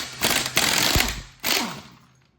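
A pneumatic impact gun rattles on the bolts of a 1994 Land Rover Defender 90 V8 in a workshop, two loud, harsh hammering bursts close up, each about a second long, with a short gap between them.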